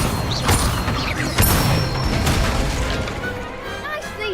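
The Incendio fire spell is cast in Hogwarts Legacy, producing sharp whooshing bursts and crackling pops mixed with other game effects, with a voice heard amid the fairly loud action.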